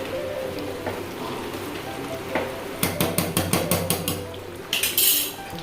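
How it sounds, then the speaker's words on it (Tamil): Chicken biryani boiling in a pot, a steady bubbling hiss, then a burst of quick metallic scrapes and clanks as a ladle stirs the pot, close by, with no speech. "அந்த டைமிங்கில் வந்து நல்லா கிண்டி விட்டு நல்லா கிளறிடலாம்"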